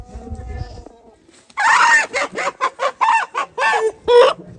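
A chicken clucks close by in a rapid series of loud, choppy squawks, following a few seconds of quieter background noise.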